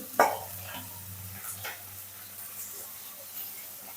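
Bhola river fish frying in oil, a sharp spatter at the start, then a low steady sizzle with scattered faint pops and the light scrape of a stirring utensil, with no voices.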